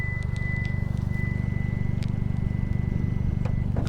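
A 2021 Hyundai Veloster Turbo sounds a steady, continuous warning tone after its key is taken away, heard close over a low, even engine idle.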